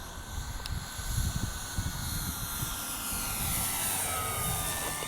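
Avios Super Tucano RC model plane flies past with a steady propeller buzz that rises and shifts in pitch, moderately distant, along with outdoor wind noise and no speech.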